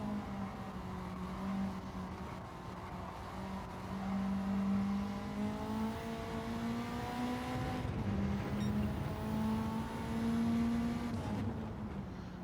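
A Honda Civic race car in Gran Turismo 7 holds third gear around Tsukuba, its engine droning continuously with steady pitch swells as it accelerates and eases through corners, loud and close throughout.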